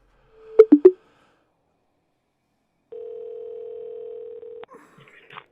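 Steady telephone dial tone of about a second and a half, heard alone while a dispatcher calls a freight broker, preceded by a few short clicks and followed by faint noises after it cuts off.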